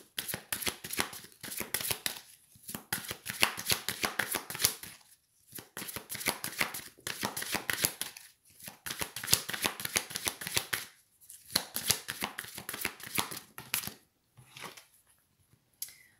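Tarot cards being shuffled by hand in a long, steady run of quick riffling, crisp papery bursts broken by short pauses, close and fairly loud with no talking.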